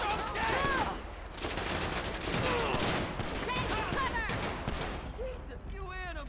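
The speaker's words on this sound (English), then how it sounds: "I don't know what this dude is shooting" Sustained bursts of gunfire in GTA 5 during a police shootout in Tucson, Arizona, dense and continuous for several seconds under overlapping shouted voices and other game sounds.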